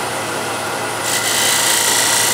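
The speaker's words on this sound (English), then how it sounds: "tilting the scraper up on its side, raising the handle, get the point in lightly, and dropping the handle as you move away from the corner" A hand scraper scraping into a corner of a workpiece makes a continuous close rasping scrape that grows slightly louder and brighter partway through, with no voice.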